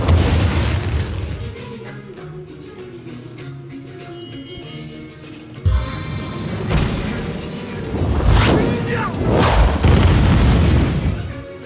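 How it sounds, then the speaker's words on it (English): Fireball spell blasts striking a wall in the fantasy role-playing game Divinity: Original Sin, a sudden loud boom followed by several heavy, rumbling fiery bursts under game music and a voice. "Shoot fireball into the wall again."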